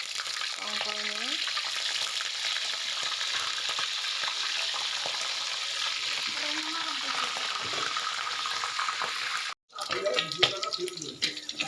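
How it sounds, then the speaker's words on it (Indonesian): Tongkol fish frying in oil for a turmeric-spiced dish, a steady dense sizzle running throughout with brief clattering stirs, a short gap near the end, then more clinks and sputtering. "Setelah itu kita goreng tongkolnya"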